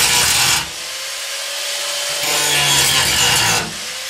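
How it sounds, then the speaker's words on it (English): A grinder cleans up the edges of galvanized steel on a 1985 Chevy K10 restoration, giving two short bursts of harsh, hissing abrasive grinding, close and loud, separated by a quieter stretch of lighter scraping contact. "now we'll get our grinder and we'll clean the edges up"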